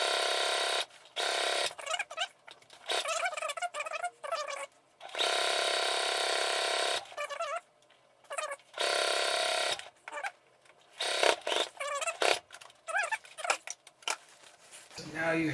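Sewing machine stitching along a button-up shirt seam being taken in, running in short bursts of a few seconds separated by pauses, moderately loud and close, with no talking.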